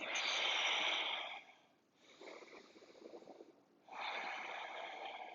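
Slow, steady breaths during a crescent lunge yoga pose, a long exhale, a softer inhale, then another long exhale, close and fairly quiet with no talking.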